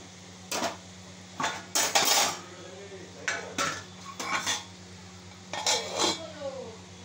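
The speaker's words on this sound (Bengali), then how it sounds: "এবার আমি ভেজে তুলে রাখা ধোকাগুলো দিয়ে দিলাম, দিয়ে আবার এটাকে ঢাকা দেব, দিয়ে ফুটতে দেব।" Fried dhoka (Bengali lentil cakes) tipped into a simmering curry pot, followed by a lid set on top; several loud metallic clanks and scrapes of pot and utensil come in bursts with quiet gaps between, close by.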